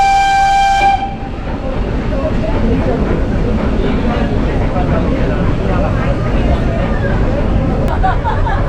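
Nilgiri Mountain Railway toy train in Ooty, a steady rumble of rolling carriages that runs loud and continuous for most of the stretch, opening with a brief sustained whistle-like tone in the first second before it fades into the running noise.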